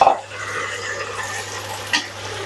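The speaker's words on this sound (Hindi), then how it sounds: "चिकन ऐड कर देंगे।" Chicken hitting a pot of dark-browned onions for biryani, a brief clatter at the start, then a steady soft sizzle and stirring with a small knock near the end, no voices.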